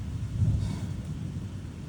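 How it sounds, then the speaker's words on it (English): Low rolling thunder from a severe thunderstorm line to the southwest in Troy, Illinois, a steady distant rumble with wind noise and no talking. "That's where most of this thunder is coming from right now."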